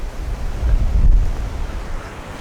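Strong, steady wind buffets the microphone on an exposed outdoor fishing bank, a continuous low rumble with gusts swelling and easing and no talk.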